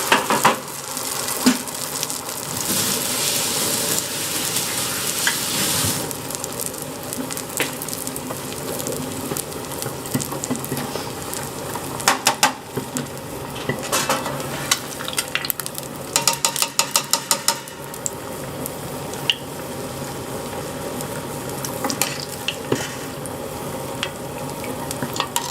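Egg tempura frying in hot oil, a constant bright crackling sizzle that runs close and loud throughout, with intermittent bursts of sharper popping and the clatter of utensils.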